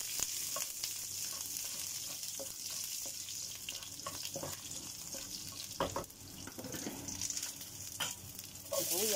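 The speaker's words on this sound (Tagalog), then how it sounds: "nagisa tayo ng bawang" Garlic sautés in a pan, a steady sizzle punctuated by frequent spatula scrapes and clinks, with a running-water trickle mixed in and no talk.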